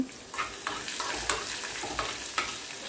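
Crushed garlic and cumin seeds stir-fried in hot oil for a tempering, giving a steady soft sizzle broken by several scraping stirs of a spoon in the pan, with no talking.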